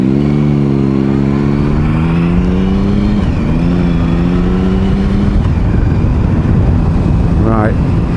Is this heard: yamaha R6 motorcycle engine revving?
yes